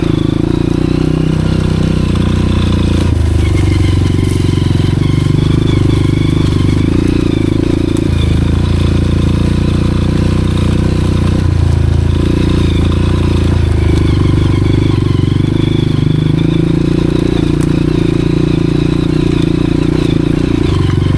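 A Honda CRF 230F dirt bike labours over a rocky mountain trail, its engine loud and close throughout, rising and falling with throttle and gear changes amid clattering and scraping from the terrain.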